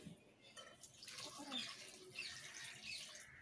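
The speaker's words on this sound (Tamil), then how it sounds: "தண்ணி ஊத்துக்கலாம்" Water is poured into a cooking pot during outdoor village cooking, a faint, soft splashing hiss that swells and ebbs over a few seconds.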